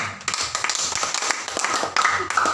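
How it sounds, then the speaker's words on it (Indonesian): A group at a morning meeting in a rehab center claps together in a short burst of close, loud clapping with uneven rhythm, and brief voices come in near the end. "Iya, tepuk tangan."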